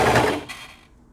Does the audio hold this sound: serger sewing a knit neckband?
yes